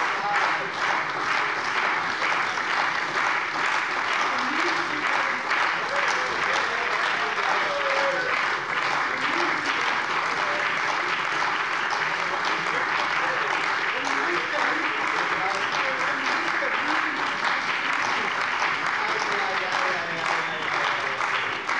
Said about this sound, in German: dem Applaus für den Redner